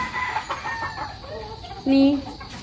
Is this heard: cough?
no